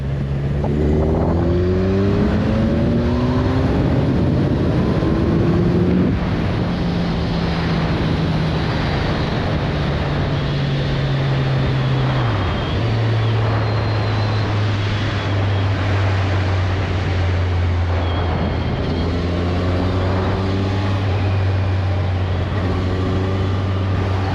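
A Kawasaki Z1000 SX four-cylinder motorcycle engine revs and accelerates through rising gear pulls, droning loudly up close with brief drops between shifts.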